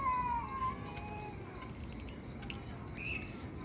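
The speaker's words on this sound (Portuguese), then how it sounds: "Tudo miando, olha, tudo miando" Several high, drawn-out meows from cats squaring off in a fight rise over a steady chorus of chirping crickets, one near the start and another toward the end.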